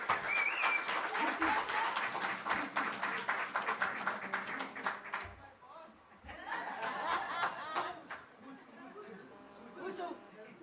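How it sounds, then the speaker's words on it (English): An audience at an international business innovation conference claps in a sustained round of applause, mixed with chuckles and murmured voices, fading briefly before rising again. "Just give her a round of applause."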